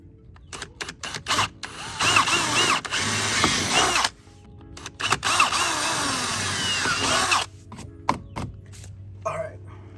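A power drill bores into the plastic lip of an MX-5: bursts of whirring drilling, two longer sustained runs separated by short stops, close and fairly loud with small clicks and handling noises between.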